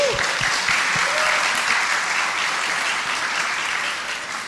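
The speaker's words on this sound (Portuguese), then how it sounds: "Palmas assim na hora" Applause from a crowd, a dense sustained clapping that stays loud and then begins to fade toward the end.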